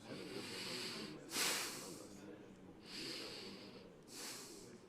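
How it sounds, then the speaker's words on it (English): Nose breathing close to a microphone, four airy hissing exhales and inhales in a slow, uneven rhythm, loud and breathy with nothing else over them. "So do you hear that nose breathing or not when I do that?"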